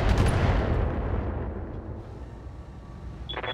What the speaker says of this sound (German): von irgendwo aus wird geschossen